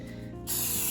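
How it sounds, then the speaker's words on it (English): Spray paint hissing onto metal Master Chief armor, a single short, close burst that starts abruptly partway through and holds steady, with no voices. "It's one of those things people don't know when it comes to using spray paint."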